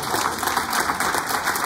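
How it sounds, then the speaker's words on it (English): A church congregation claps hands in praise during a worship service, a dense, steady wash of many hands applauding together, loud and continuous throughout. "Give the Lord a hand clap of praise."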